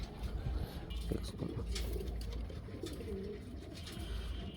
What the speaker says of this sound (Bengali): কবুতরটি ছাইরা দেখাই